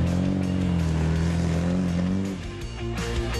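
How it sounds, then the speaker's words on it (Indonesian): A car pushes off-road through a dry pine forest trail, its engine droning steadily and loud with a low rumble that shifts pitch, easing slightly partway through. "mobil yang kami tumpangi mulai menerabas hutan pinus"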